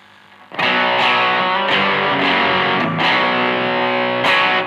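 An electric guitar through an overdrive pedal, with gritty tone, plays sustained chords, struck about five times in a slow rhythm, each ringing out loud and thick.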